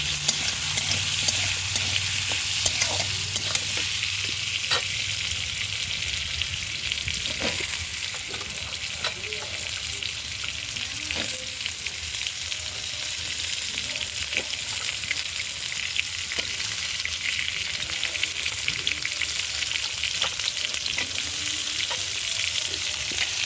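Vegetables frying with six or seven green chillies, a continuous loud sizzle with frequent scraping and stirring clicks throughout, no voices.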